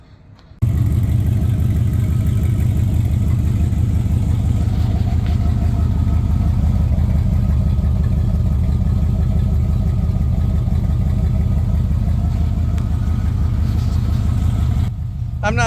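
A box Chevy Caprice wagon engine runs through a freshly spot-welded MagnaFlow muffler. A loud, steady, deep exhaust rumble holds close by for about fourteen seconds, starting abruptly and cutting off near the end.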